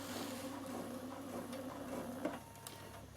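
A Bernina sewing machine stitches with a continuous, close whirring motor hum that stays even throughout, easing briefly near the end, with no speech.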